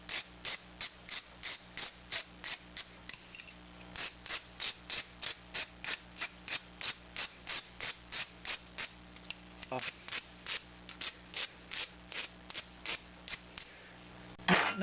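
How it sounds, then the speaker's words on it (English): Tool bevels the outside edge of a steel brake line during a double-flare splice repair, a steady run of sharp rhythmic scraping clicks, close and repeated at an even pace for about fifteen seconds. "Now we're just going to bevel the outside edge."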